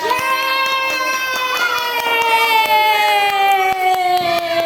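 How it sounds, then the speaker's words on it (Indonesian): An audience applauds a first-grade children's theater group with quick scattered claps, mixed with children's shouting and high, sustained voices, loud and close. "kita beri tepuk tangan untuk kelompok 2."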